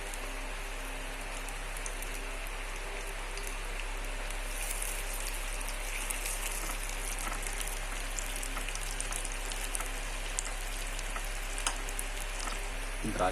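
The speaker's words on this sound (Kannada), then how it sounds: "ಇನ್ನೊಂದು ಸ್ಟವಲ್ಲಿ ನಾವು ಗೋಡಂಬಿಯನ್ನು ಸ್ವಲ್ಪ ಹುರಿಬೇಕು." Cashews roasting in hot ghee on a stove for naivedya, a dense crackling sizzle running steadily throughout, no talk.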